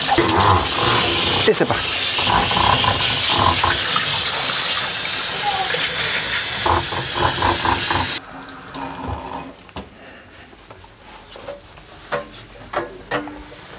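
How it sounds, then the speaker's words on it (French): Warm water runs steadily from a tap into a stainless steel kitchen sink as a sponge is rinsed under it, loud and continuous before cutting off, followed by quieter drips and handling sounds; a voice speaks briefly in French. "Vous pouvez rincer avec de l'eau tiède, voire un peu plus chaude. On rince d'abord son éponge, évidemment."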